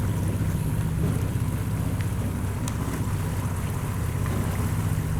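A motorboat engine idles on a canal in a Florida swamp before a hurricane, a steady low throbbing rumble close by with faint watery wash and wind noise, continuous and without speech.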